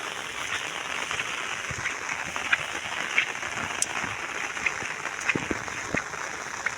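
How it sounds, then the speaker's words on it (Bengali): Steady rain falls outdoors, a dense even patter with occasional louder drops, heard alone at moderate volume. "বৃষ্টি নামছে"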